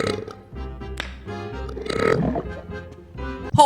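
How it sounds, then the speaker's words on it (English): A small burp cuts into a heated conversation about Juneteenth, a brief guttural sound near the end of a stretch of close, loud speech. "that little burp just threw me off guard"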